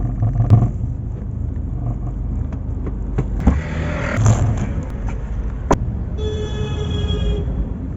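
Toyota Allion car engine revving under acceleration, a steady low rumble with brief louder bursts and knocks, later joined by a high whining tone; no talking.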